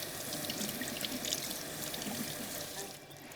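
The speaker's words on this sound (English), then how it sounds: "Then I'm going to rinse my hands." Water runs steadily from a tap while hands are rinsed at a sink, a continuous close splashing hiss lasting a few seconds that eases slightly at the end.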